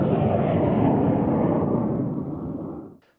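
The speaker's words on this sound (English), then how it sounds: "this is a big jet" A big jet passes overhead in Death Valley, a loud, sustained broadband roar that holds steady, then tapers off and drops out near the end.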